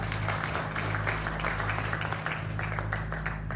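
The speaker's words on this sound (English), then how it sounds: "I think I deserve a round of applause for that." An audience at the official launch of a traditional kraal claps in a steady, fairly faint wash of applause over a constant electrical hum.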